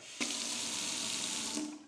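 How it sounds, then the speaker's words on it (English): A kitchen tap is turned on and runs in a steady, close stream of water for over a second before being shut off, with no talking. "For many of us, it's as simple as turning on the tap."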